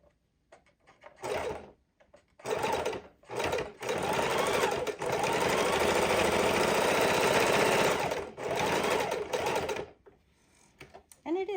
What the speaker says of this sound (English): we're going to sew down our pocket